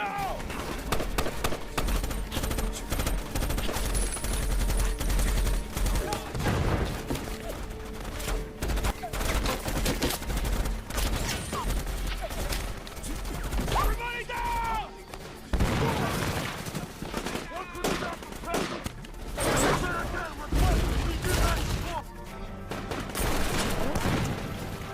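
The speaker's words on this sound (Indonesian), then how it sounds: "Mereka harus menunggu dulu sampai akhirnya adu tembakan pun pecah." Rapid bursts of gunfire crackle throughout amid chaotic movement, with volleys of shots layered over a dense, loud background and occasional shouting voices.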